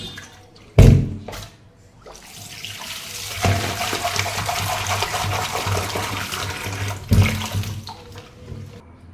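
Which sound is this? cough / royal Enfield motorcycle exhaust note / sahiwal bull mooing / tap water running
tap water running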